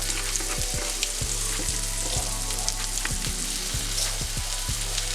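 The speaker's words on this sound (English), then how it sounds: "now all it's gonna do is just start to sear up and get a nice crisp sear on the back side of the salmon fillet" A salmon fillet sears skin-side in a hot pan for blackened salmon, giving a steady close crackling sizzle with a low hum beneath it and regular thuds from the stovetop.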